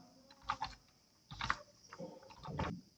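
Typing postal address details on a computer keyboard, a few soft bursts of key taps in uneven clusters, quiet and close, with no talk over them.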